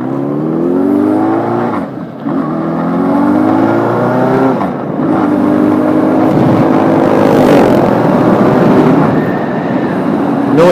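A noisy old car engine drones loudly from inside while driving, its revs rising and falling through several gear changes, with a steady rumbling roar throughout and no talk.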